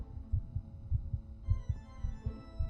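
A heartbeat sound effect in an interactive fiction video game: steady, muffled low thumps in a regular rhythm over a soft sustained hum of game music.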